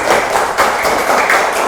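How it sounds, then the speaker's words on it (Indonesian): Children clap their hands together in an elementary classroom, a loud, brisk burst of steady rhythmic applause that fills the whole moment without talk. "Pintar, tepuk tangan dulu."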